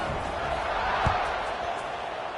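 A stadium crowd in a college football video game buzzes after a score, a steady broad murmur with a single thump partway through, while a commentator talks over it.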